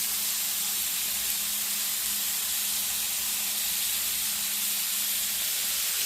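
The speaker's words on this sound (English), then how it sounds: "we're gonna go ahead and baste it with some of this butter garlic. Just to keep it moist." Blackened catfish cooks in a hot pan while being basted with butter and garlic, giving a loud, constant, close hiss of sizzling fat that holds steady throughout with no pauses.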